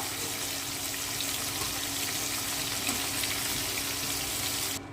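Prawns frying lightly in hot oil for a Bengali prawn malai curry, giving a steady, close, dense sizzle that holds evenly throughout and cuts off abruptly near the end.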